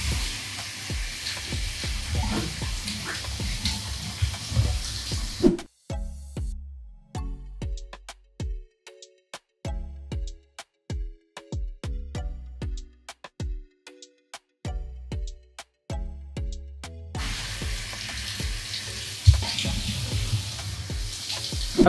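Rinsing with running water makes a steady wash of splashing that breaks off into a stretch of sharp, scattered knocks and clicks, then resumes as continuous flow, close by with no talking.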